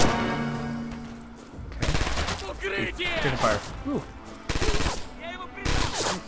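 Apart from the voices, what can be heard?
gunfire in the video game Red Orchestra 2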